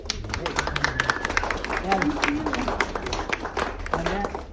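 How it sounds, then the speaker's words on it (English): Audience applause from a group on an underground mine tour, steady scattered clapping running the whole time with a voice talking over it. "So you deserve the round of applause as well"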